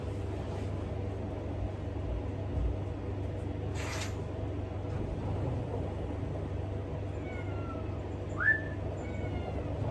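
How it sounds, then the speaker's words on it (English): A single short cat meow sounds near the end, faint against a steady low hum, after a mostly quiet stretch. "I hear my cat meowing."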